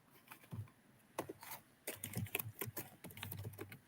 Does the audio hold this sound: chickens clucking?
no